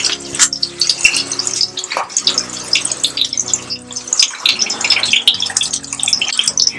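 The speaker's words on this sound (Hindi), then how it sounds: "थोड़ा सा इसमें पानी मिलाएंगे।" Water poured into a pan of egg curry masala, a close, loud splashing and bubbling pour with uneven gushes that carries on throughout.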